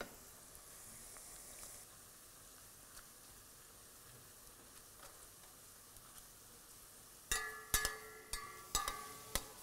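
Onions fry in a pan until brown, giving a faint, steady sizzle, with a few sharp utensil clinks and scrapes near the end.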